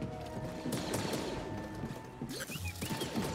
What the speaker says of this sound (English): Who is shooting me now? I have no idea who's shooting me right now.